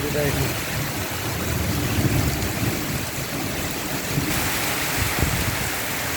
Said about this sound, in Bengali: অনেক বৃষ্টি, অনেক।